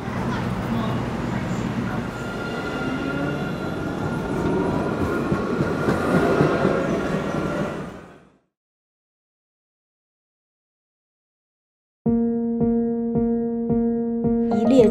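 A Songjiang tram running through Songjiang, heard as a steady rolling rumble with rail clatter and a faint wheel whine for about eight seconds, then silence, then sustained tonal chimes.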